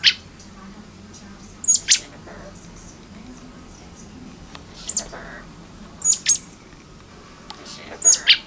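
A small bird chirps in short paired bursts, sharp and high, recurring every second or two against a quiet background.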